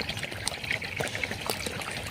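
Irrigation water trickles and gurgles steadily into the basins dug around coconut palms on a farm, soft and close, with no talk.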